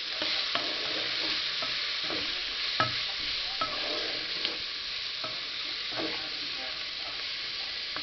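Lecho with sausage gets stirred in a pan, a soft continuous sizzle broken by repeated scraping and tapping of the spoon, close and fairly quiet.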